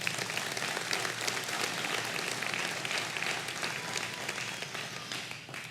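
A church congregation claps together, a fairly quiet but continuous patter of many hands that holds evenly and fades slightly at the close.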